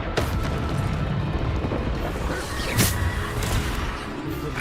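Bombarder spell in Hogwarts Legacy blasting a target: a loud, rumbling eruption with a sharp burst near the middle amid continuous heavy combat noise, no talk.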